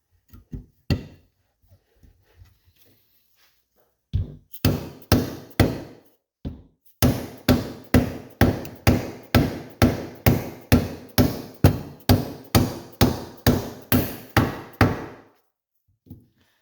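A hammer drives crank bearings into the halves of an engine case, striking in sharp, loud metallic blows. A few scattered taps come first, then a short burst, then a long, steady run of evenly spaced strikes close by.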